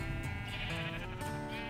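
Minecraft sheep bleating, a loud wavering bleat filling the whole moment with no talk over it.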